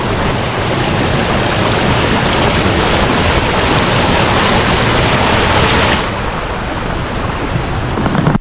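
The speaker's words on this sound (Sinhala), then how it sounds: "මෙන්න මෙතනින් මේ විදිහට තමයි වතුර පාර ගිහිල්ලා අන්න අර පැත්තේ නිකන් පොකුණකට වගේ වතුර එකතු වෙන්නේ" Kuruwita waterfall pouring into a natural pool, a loud, dense, continuous roar of rushing water close by, steady from start to finish with no voices.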